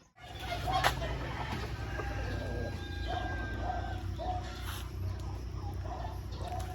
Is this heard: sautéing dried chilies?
no